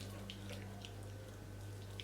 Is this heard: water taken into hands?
yes